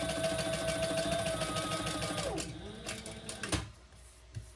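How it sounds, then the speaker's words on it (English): A sewing machine runs chain stitching on a Scottie Convertible garment with a steady, rapid mechanical whir that winds down and stops partway through, followed by a few handling clicks. "I'm just going to do some chain stitching."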